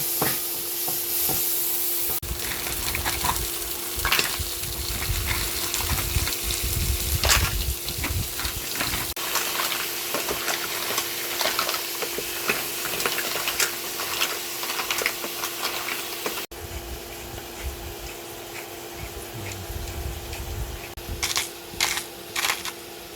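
Garlic and chili frying in oil while being stirred, a continuous close sizzle with frequent scraping and clattering of the utensil against the pan, plus a faint steady hum underneath.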